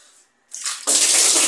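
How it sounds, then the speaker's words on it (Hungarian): Cold clean water pours in a loud, sustained splash for an ice bucket challenge, rising briefly after a near-silent moment and then crashing in full and continuing to the end. "Tiszta hideg vizet."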